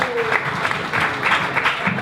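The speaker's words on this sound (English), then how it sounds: "Give her a round of applause." A brief burst of applause from a group, clapping steadily and fairly loud for a couple of seconds.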